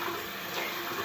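Water runs steadily from a tap during shaving, a constant hissing splash close by with no talking.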